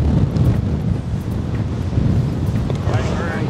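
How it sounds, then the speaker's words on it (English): Gusty wind blowing across a golf course at TPC Toronto, a dense rumbling buffet on the microphone that stays loud and constant throughout with no speech. "Oh my gosh, quite the windy day."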